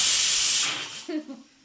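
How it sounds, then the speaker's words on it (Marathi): Loud, steady steam hiss from a pressure cooker whistle in a home kitchen where lentils are cooking, lasting over half a second and then fading away as a voice briefly speaks. "कुकर शिट्ट्या देते बघा"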